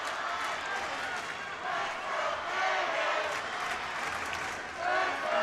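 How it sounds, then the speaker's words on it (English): A raucous crowd at a Macon Mayhem versus Huntsville Havoc hockey game in the Macon Coliseum roars and swells in waves, with cheers rising over an arena wash while an announcer's voice runs beneath. "Crowd getting raucous here in the Macon Coliseum."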